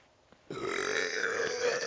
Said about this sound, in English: I will burp for you guys.